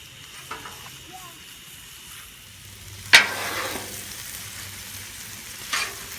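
Shrimp and lo mein frying on a Blackstone griddle give a steady low sizzle, broken by a sharp scrape or clatter near the middle and another toward the end.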